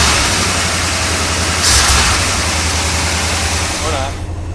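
A 1978 Chevrolet Corvette C3 engine idles steadily with a low, continuous rumble, holding even throughout and briefly rising near the middle before settling down, with no talking over it.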